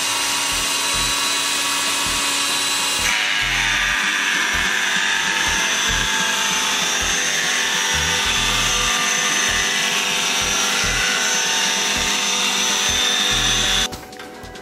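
A rotating grinding machine in a ski tuning workshop works the edges of alpine skis with a loud, steady whirring grind that runs unbroken for about fourteen seconds before cutting off.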